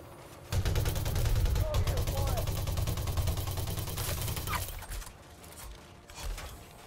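Rapid gunfire from an on-foot firefight in Elite Dangerous: Odyssey, a sustained dense burst of shots lasting several seconds before it breaks off, with faint mechanical clicks and a later lighter shot.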